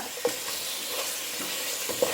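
Fried chicken pieces are stirred into a pan of boiling sweet and spicy Korean sauce, giving a steady bubbling sizzle with two short, sharp scrapes of the spoon against the pan.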